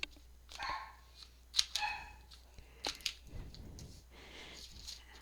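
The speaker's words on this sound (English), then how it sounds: "What's she barking at?" A dog barks indoors in a few short bursts amid room noise, with light rustling and handling sounds of craft work nearby.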